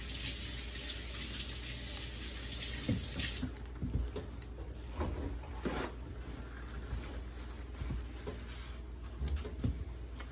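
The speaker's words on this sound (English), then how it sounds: "Spilled some water." Water spilled and running in a home kitchen while vegetable beef soup is being made, a continuous faucet-like splashing stream with scattered clatters and knocks, no voices.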